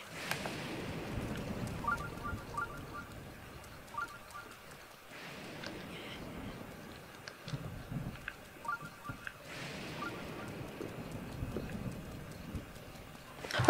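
Faint horse hooves clop in The Legend of Zelda: Breath of the Wild, soft and irregular under a quiet ambient background with small chiming sounds.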